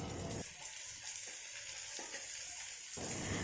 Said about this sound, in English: the onions have become pink and we'll add the sprouts.